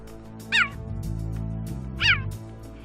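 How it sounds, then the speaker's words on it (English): A cheetah gives two sharp, bird-like chirps about a second and a half apart over a low steady rumble, close and clear, with no talk. "Also, they chirp loudly enough to be heard a mile away."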